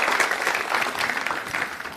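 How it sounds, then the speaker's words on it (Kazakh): Audience applause at a Karakalpak comedy stage event, a dense, steady wash of clapping that fills the whole moment without a break, no voices rising above it. "Шапалақ қошеметтер."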